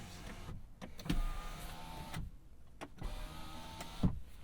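Power windows on a 2023 Volkswagen ID.4 whir up and down inside the cabin, a steady motor hum broken by several clicks and thumps as the glass stops and restarts, fairly quiet and without talk.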